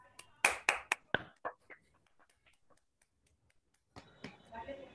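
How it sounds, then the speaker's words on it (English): Brief applause at the launch of a virtual photography exhibition, a few sharp claps at the start thinning into scattered taps, followed by faint talk. "And so a big round of applause when Dr. Barun Sinha ji clicks the launch vi"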